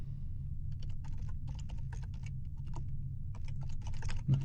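Computer keyboard typing while code is written, close and fairly quiet: quick bursts of light key clicks in uneven clusters, with short pauses between runs and no voices.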